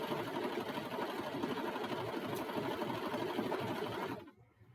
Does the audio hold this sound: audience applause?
no